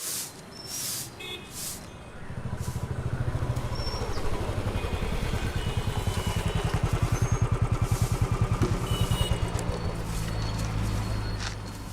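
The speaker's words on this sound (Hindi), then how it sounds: "उस बाइक का इंजन सही क्या है?" A motorcycle engine idles and runs with a steady rapid pulsing putter that builds after a couple of seconds and holds fairly loud, with faint clatter and hiss around it.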